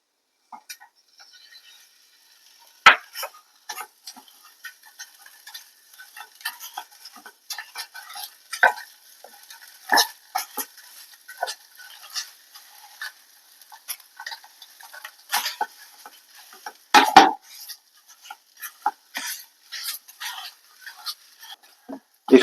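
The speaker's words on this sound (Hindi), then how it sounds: "अब हम मावा सेक लेते हैं।" Mawa (khoya) roasted in a pan for fried Ganesh Chaturthi modak, stirred with a spoon that makes irregular close scraping clicks and taps, some louder knocks, over near-silence and no talk.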